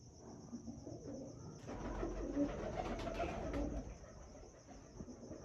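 Pigeons on a rooftop loft coo in a soft, steady murmur, close and moderately loud, with no talk over them.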